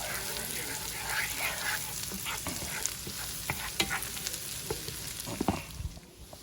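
A utensil scrapes and stirs the browned bottom of a sizzling pan while making creamy garlic chicken, with irregular close scrapes and clatters over a constant frying hiss.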